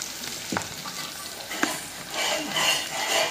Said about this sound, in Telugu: ఇందులో చిక్కుడుకాయలు వేసేద్దాం.